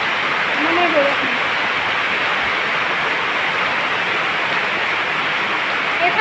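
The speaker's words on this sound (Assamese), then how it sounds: "তাতচোন ইমান বৰষুণ ইমানেই বৰষুণ" Heavy rain pours down in a steady, loud, unbroken roar that fills the whole stretch, with a faint voice briefly audible beneath it.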